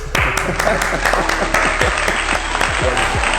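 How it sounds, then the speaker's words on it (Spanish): An audience applauds a guest being introduced on an art and dramaturgy talk show. Brisk clapping fills the room and holds steadily for a few seconds, with faint rhythmic tones running underneath. "Un aplauso, por favor."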